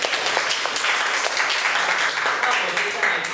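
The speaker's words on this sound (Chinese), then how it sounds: "我们掌声一下" An audience at a seminar or panel event claps to thank the speakers, a dense, even burst of many hands that holds steady for a few seconds, close and fairly loud.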